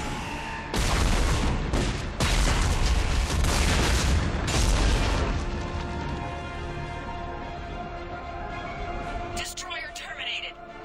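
Weapons fire in the Mass Effect 3 video game: a dense burst of loud booming shots and rapid gunfire for several seconds, then fading into softer rumbling and scattered effects.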